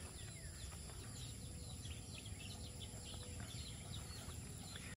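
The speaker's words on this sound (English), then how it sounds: "All you can hear is birds. Birds chirping." Many small bird chirps and calls at 7 a.m. on a farm, scattered over a steady low rumble, with occasional clucking, a busy outdoor chorus heard from a distance.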